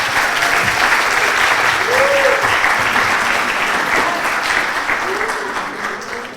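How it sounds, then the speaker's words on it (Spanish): Audience applause welcomes a speaker at a conference, a dense sustained clapping that stays loud, with brief voices rising above it, then eases slightly toward the end. "Me gustaría darle un fuerte aplauso"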